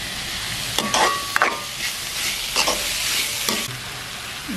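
Tomato curry is stirred briskly in a frying pan, a continuous close sizzle broken by several scraping strokes of the spoon, with no talk.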